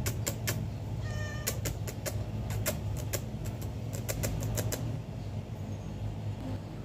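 A cat gives a thin meow amid sharp clicking and tapping, over a steady low hum in an indoor room; no one speaks.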